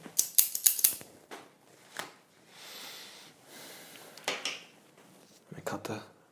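A cigar cutter, getting dull, snips the tip off a cigar in a few quick sharp clicks and crisp cuts up close, followed by soft handling rustles and a faint voice.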